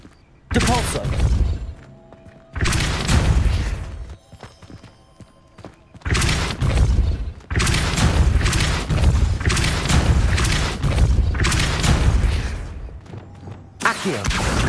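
Depulso spell casts in Hogwarts Legacy, heard as a series of loud, heavy booming blasts with thudding impacts, several long bursts separated by short quieter gaps.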